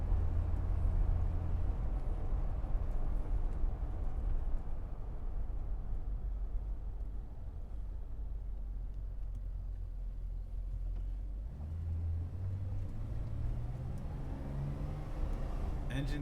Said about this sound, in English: Engine sounds phenomenal.